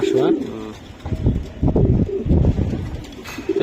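Racing pigeons coo in low, rolling calls close by, several in a row, while people talk in the background.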